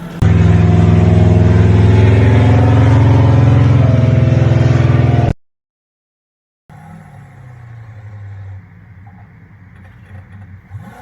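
A Mustang's engine runs on its first test drive after 19 years parked, loud and revving for about five seconds, then cutting out to silence before a quieter idle-like rumble returns.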